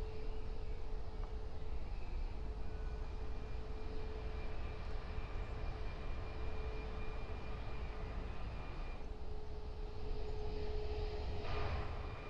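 An A340 airliner taxiing in the Roblox game Aeronautica gives a steady, fairly faint jet engine drone with a sustained tonal hum, continuous and unchanging throughout with no talk.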